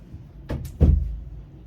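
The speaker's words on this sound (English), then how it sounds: "let me close the door" A door swings shut indoors: a soft knock followed by a heavier, louder thud that decays into low room rumble, with no talking over it.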